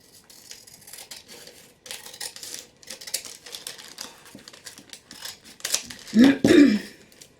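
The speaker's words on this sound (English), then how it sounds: "So we have this glued part here. We're gonna trim that off." Scissors snip repeatedly through the glued bottom of a paper bag, quick crisp cuts with paper rustling in between, and a brief voice near the end.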